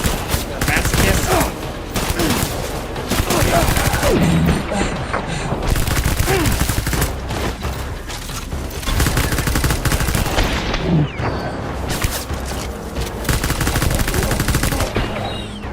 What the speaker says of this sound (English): I don't even see who's still shooting at me.